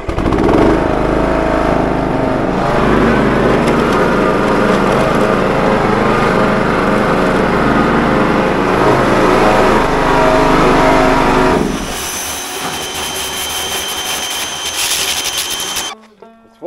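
A gasoline pressure washer engine runs steadily and loudly while washing a camper, a continuous droning roar that drops off near the end before cutting out.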